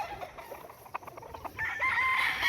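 Chickens cluck in short scattered calls, then a rooster crows with a sustained rising call near the end, outdoors on a farm with grassy ground, moderately close.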